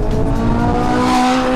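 A Holden Ute race car in its most extreme version, from the Forza video game, with its engine holding a loud, steady high rev and tires squealing. No one talks.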